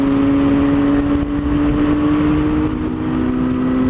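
A car engine hums loud and near with a steady tone that slowly drops in pitch, the sound of a McLaren going past on a country road.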